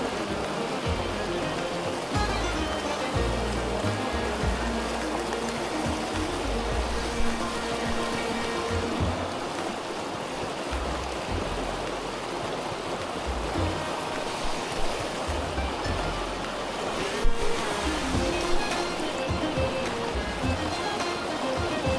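The Delatite River flows steadily in winter, a continuous broadband rush of moving water, close and loud, with no voices.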